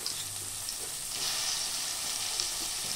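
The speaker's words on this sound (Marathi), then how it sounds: "चांगलं परतवून घेऊया." Beans, carrots, potatoes, cauliflower, field beans and tomato sauté in a pan for veg pulao, giving a continuous, dense sizzle that swells slightly midway.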